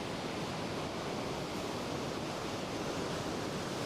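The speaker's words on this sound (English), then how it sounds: "The waves are beautiful, graceful, just the last bit of light of the day reflecting off the white foam of the waves as they break." Ocean waves break on a beach at dusk and churn into white foam, a steady, dense wash of surf with no gaps that carries on evenly throughout, with no voices over it.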